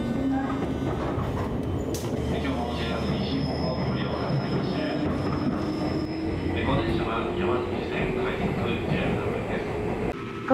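A JR 201 series electric train on a rapid service out of Nara runs steadily, with continuous rumbling wheels, rail noise and a faint squeal, heard from on board at a constant, fairly loud level.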